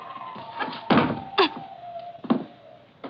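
A closet door shuts in a 1946 radio drama, several heavy wooden thunks and bumps over a faint steady hum, close and distinct, with no voices.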